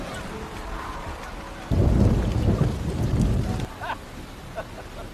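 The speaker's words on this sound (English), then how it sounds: "the festival that Steve had worked so hard to make for the residents was cancelled due to the heavy rain" Heavy rain with rolling thunder during a cancelled outdoor village festival: a steady downpour suddenly swells into a loud, roaring burst with deep rumbles, then eases back to lighter rainfall.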